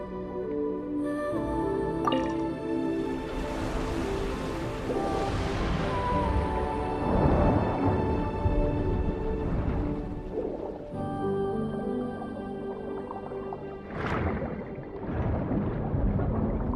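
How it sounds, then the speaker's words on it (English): Water rushes into a sluice gate chamber in Genshin Impact, a continuous low churning rumble with surges and splashes over steady sustained musical tones. "That will fill the empty middle chamber with water."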